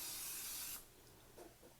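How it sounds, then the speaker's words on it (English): A steady hissing burst of aerosol non-stick cooking spray onto a 9x13 casserole dish lasting under a second, close by, followed by quiet faint clatter. "I'm going to take some non-stick spray and spray the bottom of my casserole dish"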